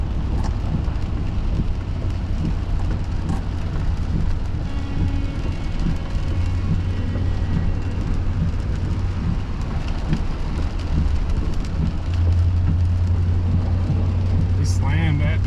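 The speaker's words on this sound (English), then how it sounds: "this is what happens when it rains in the south" Heavy rain pours steadily with a constant hiss, low rumbling traffic or engine noise running underneath throughout.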